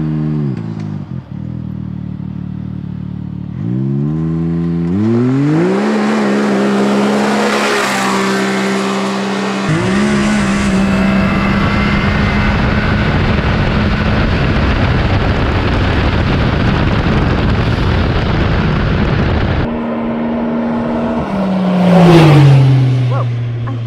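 A 2020 Can-Am X3 RR side-by-side with a swapped air box, running on 93 octane, revs from idle and accelerates hard through several rising gear pulls, loud and close, with a sustained high-rpm roar before dropping back near the end.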